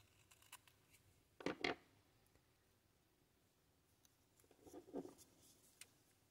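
Scissors snip through washi tape on small wooden earrings, two short crisp cutting bursts spaced a few seconds apart in a quiet room, with faint handling ticks between.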